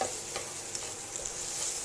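Chopped ginger and garlic fry in butter over a low flame, a soft, steady sizzle with faint stirring, quiet and close with no voices.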